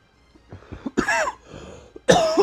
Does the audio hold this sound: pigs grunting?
no